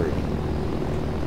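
Aircraft engine in Arma 3 during a night flight, a loud steady drone with rotor-like churn that holds constant throughout with no pause.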